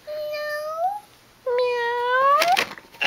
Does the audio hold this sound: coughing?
no